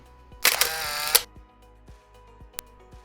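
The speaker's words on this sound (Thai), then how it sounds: "ผมก็จัดไปสักหนึ่งแชะ" A camera shutter fires in a quick burst with a whirring drive, followed by a few soft mechanical clicks and one sharp snap, at a hotel reception area in Ratchaburi, Thailand.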